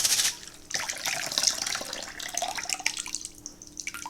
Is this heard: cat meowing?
no